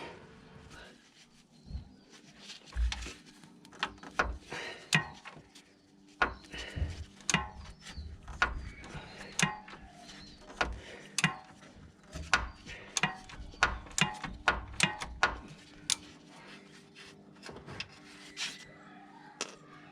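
Nut being worked loose from the anti-roll bar bush bolt on a Land Rover Discovery 3 front suspension: repeated close metallic ratchet clicks and tool knocks in irregular bursts over a low steady background hum.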